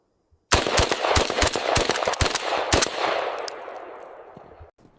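AK rifle firing a rapid burst of about a dozen sharp, loud shots outdoors, the reports followed by a long echoing tail that fades away.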